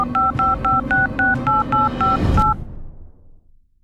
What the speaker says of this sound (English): Now I'm going to call your dad.